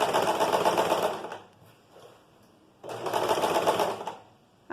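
Sewing machine stitching the side seam of a pleated skirt, in two loud, close bursts of steady whirring about one and a half seconds each, separated by a quieter pause.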